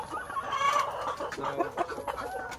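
Backyard breeder hens cluck steadily in a chicken coop during a morning egg collection, with a busy, overlapping chorus of close, moderately loud clucks and squawks.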